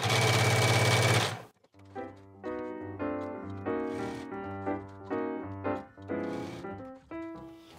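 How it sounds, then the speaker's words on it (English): Sewing machine stitching fabric strips for a pouch: a loud burst of rapid stitching, then a series of short rhythmic runs of needle clatter with brief pauses between them. "I'm stitching from the pretty side, just shy of 1/4 inch"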